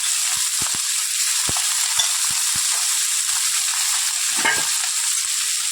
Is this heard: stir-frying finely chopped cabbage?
yes